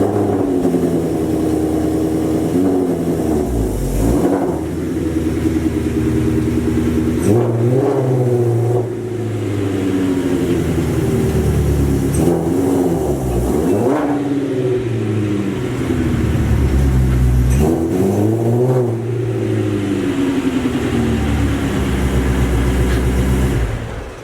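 A Ford Mustang GT350 rumbles loudly up close as it pulls forward and backs up a few times, the engine rising and falling in a repeated rhythm.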